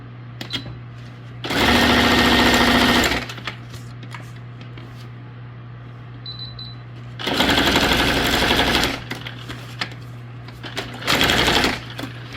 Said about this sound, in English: just put a zigzag stitch there